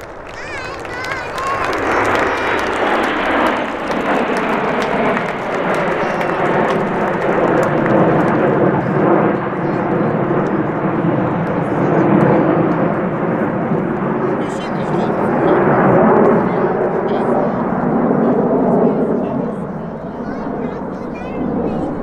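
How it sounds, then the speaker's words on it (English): Supermarine Spitfire flying past at the Midlands Air Festival display, a continuous broad engine roar that swells and fades over about twenty seconds, loud and sustained with a commentator talking over it. "this is Spitfire"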